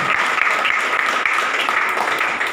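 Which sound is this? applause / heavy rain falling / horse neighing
applause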